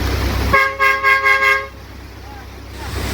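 A truck horn sounds loud and close in one long blast that pulses several times, then stops, leaving engine and road rumble with outdoor noise around it.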